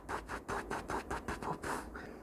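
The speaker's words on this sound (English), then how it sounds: "And if it makes a puffing noise," Rhythmic puffing from a cracked exhaust manifold on a running engine, a regular series of soft breathy bursts repeating several times a second, close and steady without talk.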